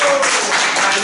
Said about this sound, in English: I'd just like to say, a big round of applause for Ruben, who's the greatest teacher that.